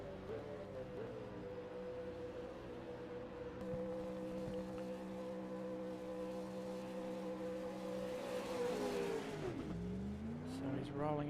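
A V8 Supercar in a sim racing game rolls out of the pits at the Gold Coast street circuit, its engine holding a steady droning tone before revving up and dropping back near the end, under continuous commentary.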